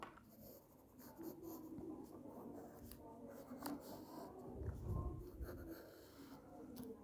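A pen or pencil drawing a collar on paper gives soft scratchy strokes and rubbing, with irregular short marks and a few firmer swipes. The sound is close, quiet and has no voices.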